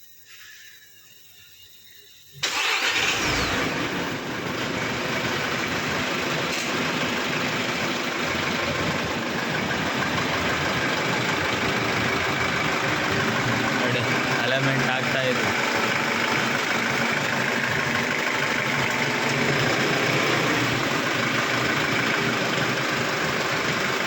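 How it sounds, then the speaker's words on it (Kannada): A Tata TT BS6 vehicle engine starts abruptly and then idles loudly and continuously, a steady rumbling drone, while a person speaks briefly over it. "ಗಾಡಿ ಸ್ಟಾರ್ಟ್ ಆಗಿದೆಯಾ? ಹೆಂಗೆ ಸೌಂಡ್ ಬರ್ತಾ ಇದೆ"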